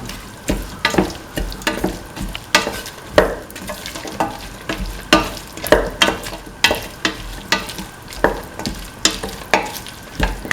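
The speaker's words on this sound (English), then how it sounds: "And the cauliflower pieces. Keep on mixing." Cauliflower pieces are stirred in a hot frying pan with a steady sizzle, a spoon scraping and tossing them in a regular rhythm of strokes, close and clear with no talking.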